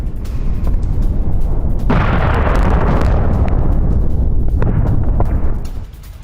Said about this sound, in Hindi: रिहायशी इलाके में गिरी ईरानी मिसाइल, धमाके के बाद दिखा धुएं का गुबार।